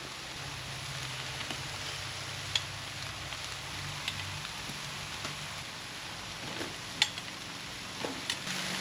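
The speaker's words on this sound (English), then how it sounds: "now everything is grilling nicely, just making sure none of this meat or onion burns" Meat, onion and tomatoes sizzle steadily on a hot grill, a soft continuous crackle with a few sharper pops and clicks, close and fairly quiet, with no talking.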